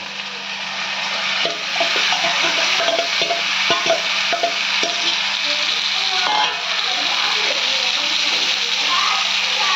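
Masala-coated chicken for mint chicken sautés in a hot pan with a loud, steady sizzle, broken by the clacks and scrapes of stirring.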